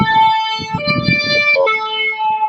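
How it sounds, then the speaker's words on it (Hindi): An ambulance siren wails in steady, sustained tones that step between pitches, with a rumbling, muffled background noise underneath. "एम्बुलेंस की साउंड थी आंटी."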